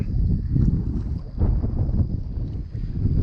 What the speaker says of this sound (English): the wind picking up